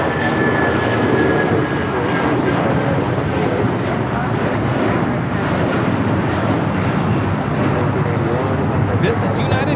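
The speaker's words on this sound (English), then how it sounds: "This is United Airlines 1981 taking off to Newark on the 757-200." A United Airlines Boeing 757-200 takes off at LAX, bound for Newark, with a loud, steady jet roar that fills the whole stretch and holds its level throughout, while a voice talks over it.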